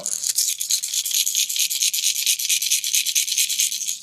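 A rapid, steady rattling shake of BBs knocking inside a hollow Backstabber lipless crankbait fishing lure, close and continuous with a bright hissy texture.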